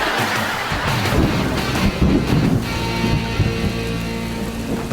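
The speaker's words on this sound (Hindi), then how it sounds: "आज तो जम के बारिश हो रही है।" Heavy rain pours down steadily, with a low rumble of thunder and wind underneath and a dense hiss of drops, loud and continuous across the whole stretch.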